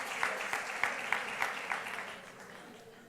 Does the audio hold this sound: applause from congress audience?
yes